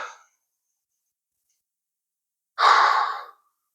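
A single audible exhale during a hip-focused yoga class, a soft breathy rush lasting under a second after a long quiet pause, with a faint trailing breath at the very start.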